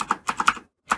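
Quick keystrokes on a computer keyboard, about five close clicks in a rapid burst, a brief pause, then one more press, with no voices.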